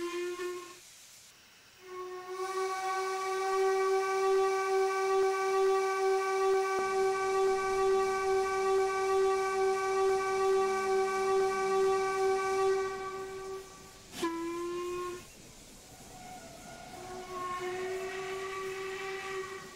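A loud steam train whistle blows one long sustained note, cuts off briefly, then sounds again in a shorter blast and a final trailing whistle.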